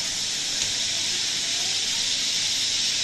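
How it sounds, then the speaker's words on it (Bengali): Hot oil sizzles and bubbles around a fried spice paste for a light egg bhuna curry, a steady close hiss with no pauses that sounds much like steam or spray. "তেল ফুটে উঠেছে।"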